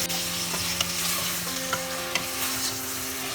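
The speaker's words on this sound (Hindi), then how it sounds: "हमें 3-4 मिनट मटन फ्राई करना है जब तक थोड़ा सा कलर चेंज ना हो जाए।" Mutton sizzles with onions in a hot pan. A steady frying hiss is broken by regular scraping clicks of stirring, close and with no voices over it.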